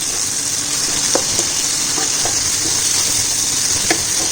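Dried fish (balangsang) sautéing in a pan gives a steady, close hiss and sizzle of frying oil, with a few faint scraping taps of stirring.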